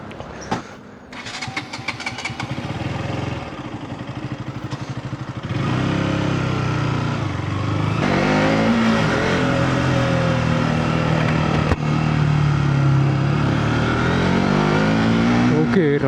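Engine of a KTM RC 200 motorcycle after a chain upgrade, a steady close drone that rises in pitch as the bike gets under way, with brief revs near the start and continuous wind and road noise throughout.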